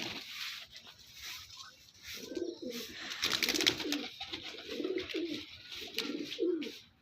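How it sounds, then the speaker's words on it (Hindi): Punjabi pigeons offered for sale coo in repeated low, throaty bursts, fairly close, with soft rustling and faint chirps around them and no talking. "ये कबूतर है और ये कबूतरी है।"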